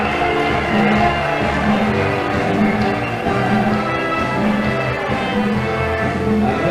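A football crowd fills the ground with dense, steady noise before a sixth-round Coupe de France match, a continuous roar with faint rhythmic swells and no clear single voices.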